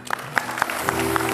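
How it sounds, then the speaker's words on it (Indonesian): Studio audience clapping on an Indonesian TV comedy show, a short burst of applause that swells across the moment, fairly close and steady with some scattered louder claps. "Tepuk tangan buat Ferdian."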